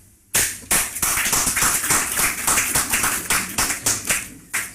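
A room full of people breaks into loud applause at a political budget address, a dense, steady burst of clapping that swells and then fades into scattered claps.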